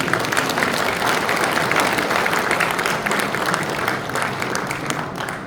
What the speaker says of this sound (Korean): 부총회장 후보 문영렬 장님, 큰 박수 부탁드리겠습니다.